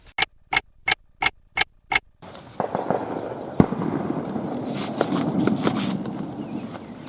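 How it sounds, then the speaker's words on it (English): Fireworks pop in a rapid run of six sharp, evenly spaced bangs on a summer morning by a muddy river, followed by a denser crackling spray of smaller bursts and distant pops. "Fireworks are starting for today already."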